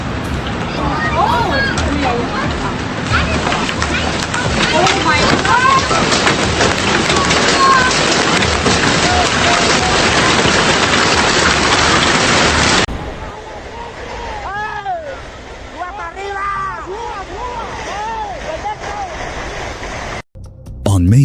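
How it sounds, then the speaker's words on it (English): A powerful hailstorm pounds Munich in a dense, loud, continuous roar of hitting ice for about thirteen seconds, then drops to a quieter wash as a voice speaks over it. "Look at this powerful hailstorm pounding Munich, creating a terrifying scene."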